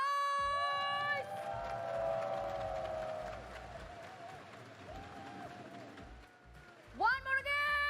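Watch-party crowd at a VCT Ascension Pacific 2024 Valorant grand finals, clapping and cheering in a dense, steady roar through the middle, with tonal sounds and louder bursts rising at the start and end.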